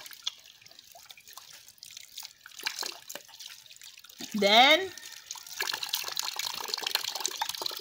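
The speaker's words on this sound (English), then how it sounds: "you rinse well so that the soapy water gets off your arm" Soapy hands and forearms rinsed under running water at a sink during a handwashing demonstration, a soft, fairly faint water trickle with drips running throughout, while a person speaks briefly over it.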